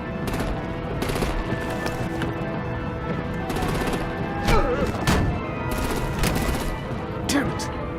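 Gunfire and artillery blasts ring out in the video game Batman: The Enemy Within, with repeated sharp bursts and booms in a dense, ongoing barrage over a continuous rumbling action bed.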